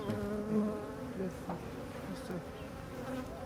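Honey bees swarm at an open hive in a university apiculture setting, their dense, steady buzz droning close and continuous with a few brief louder passes.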